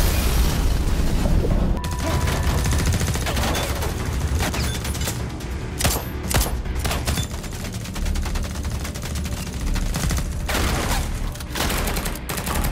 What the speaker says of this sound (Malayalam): വലിയൊരു ഷൂട്ടൌട്ട് തന്നെ നടന്നു.